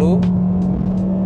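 A compact SUV engine, either a Honda HR-V SE or Mazda CX-3 Touring, hums steadily under acceleration from inside the cabin with a loud constant drone, while a voice speaks over it.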